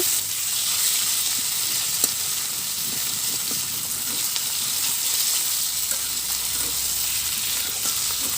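Fish fry in a pan in a rustic clay kitchen, a steady close hiss and sizzle filling the whole stretch, with a few soft scrapes and taps from a metal spatula turning the pieces.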